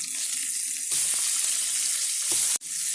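Chicken fries in hot oil in a pan, giving a loud, steady sizzle close by that drops out for a moment near the end.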